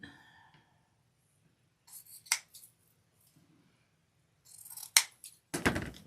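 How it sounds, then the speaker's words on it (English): Scissors trim sisal and deco mesh pieces for an Easter evergreen wreath, making a few sharp, close snips and cutting rustles separated by long quiet gaps. "I'm going to trim those down a little bit."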